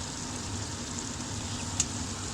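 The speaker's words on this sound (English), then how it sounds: "So I added in my garlic. We just need to stir." Garlic sizzling in a pan alongside browning beef for a bolognese as it is stirred, a soft, even hiss that holds steady throughout, with one brief light click near the end.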